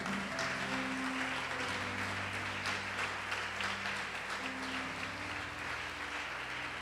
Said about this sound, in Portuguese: Você pode aplaudi-lo, você pode glorificá-lo.